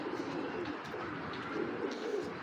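A big racing pigeon coos in a low, muffled, continuous burble over a steady background hum, fairly faint and close, with no clear pauses.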